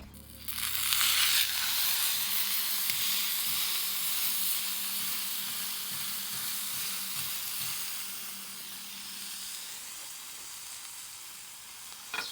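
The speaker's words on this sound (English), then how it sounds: "So we're gonna sear on this side until we get a really nice crust." An A5 Japanese Wagyu ribeye sears on a hot carbon steel griddle. Close, loud sizzling and hissing burst up at the start, then settle into a steady crackling fry that slowly eases.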